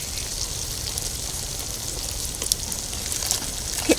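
Whole onions and spices sizzle and crackle steadily in a pan for a Kathiyawadi Gujarati onion curry, with a few faint stirring clinks near the end.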